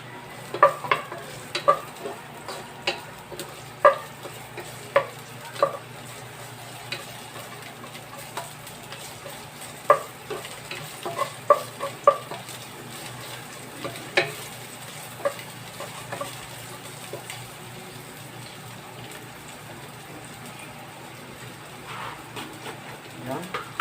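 Sliced onions fry in a pan while a spoon stirs them, giving a low steady sizzle broken by frequent sharp scraping clicks and taps, close by, with no one talking over it.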